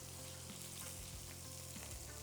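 A sous-vide steak sears in a hot pan just after being flipped and pressed down, giving a continuous, even sizzle with a faint crackle throughout.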